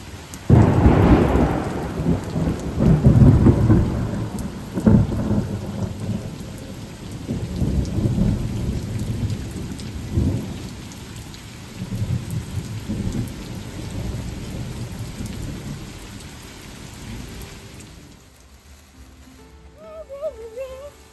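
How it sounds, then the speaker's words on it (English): A thunderstorm rumbles with repeated deep rolls of thunder over steady rain, heard from a trail shelter, loud at first and gradually easing, ending in quieter patter. "we are sitting in the shelter, listening to the thunder"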